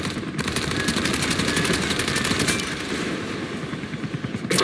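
Rapid continuous automatic cannon fire from a helicopter's main weapon in the Comanche video game, a loud sustained burst of fast regular shots lasting several seconds with no talk over it.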